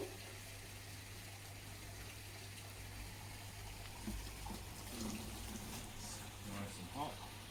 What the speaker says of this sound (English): I'm just going to add hot water from tap to this bucket now